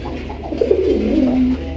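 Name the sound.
Raj Golla pigeons cooing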